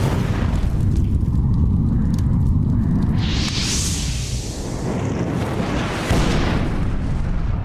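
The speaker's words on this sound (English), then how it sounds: "Windows rattle as the roar of an explosion fills Trollskull Alley" A loud explosion sound effect played during a Dungeons & Dragons session set in Trollskull Alley, a sustained roaring boom with rumbling, crackling debris and rattling windows that surges and then slowly settles, no talking over it.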